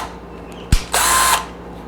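A WorkPro 20V 3/8-inch cordless drill gives a brief click or bump, then spins up at higher speed for about half a second of loud, close whirring before stopping, with no speech.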